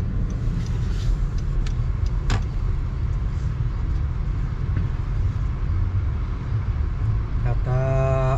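Heavy road traffic in Montreal rumbles past continuously and loudly, with many cars going by close at hand and a tonal vehicle sound rising near the end.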